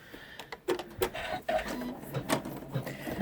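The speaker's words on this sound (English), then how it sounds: "And now we do our satin stitching." Embroidery machine satin stitching a zigzag on an in-the-hoop scallop pouch, a rhythmic mechanical whirring and clicking with uneven pulses, moderately quiet and close, no voices.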